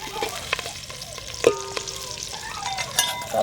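Dal (lentils) frying in oil in a pan, sizzling steadily while a spoon stirs and scrapes, with a few sharp utensil clinks and taps close by; no one speaks.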